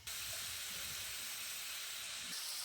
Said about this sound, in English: these have a really great sizzle to them